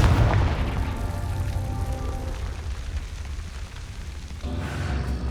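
A Confringo spell explodes in Hogwarts Legacy gameplay with a deep, rumbling boom that opens loud and decays into a sustained low roar, with a second surge near the end.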